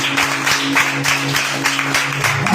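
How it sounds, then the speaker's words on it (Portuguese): A church congregation at a worship service bursting into sustained applause for Jesus, dense clapping filling the room over a low steady hum. "Bate uma salva de palmas para Jesus"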